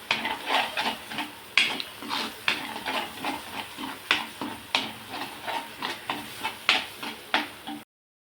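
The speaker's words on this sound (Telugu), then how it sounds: "ఆయిల్ బయటకు వచ్చేదాకా వేగనివ్వాలి" Chili powder and salt frying in oil in a pan for egg masala curry, with a spoon scraping and stirring in a regular rhythm of clinks over a soft sizzle, close by and without talking.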